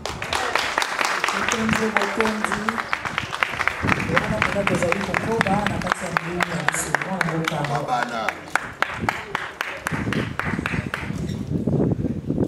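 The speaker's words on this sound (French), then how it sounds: "est-ce qu'on peut applaudir encore une fois très très très fort" A crowd claps steadily after a speech at an event for a foundation, the dense applause sustained for several seconds while voices call out over it.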